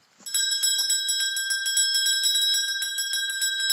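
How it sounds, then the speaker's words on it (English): Bells ringing in a rapid, continuous peal with bright, sustained metallic tones, starting after a brief moment of quiet and holding steadily loud to the end. "I can almost hear the wedding bells ringing."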